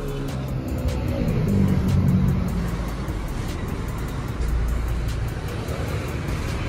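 An owner-type jeep on a restoration job, its engine idling steadily again after earlier misfiring, a continuous low rumble with broadband noise throughout, no voices.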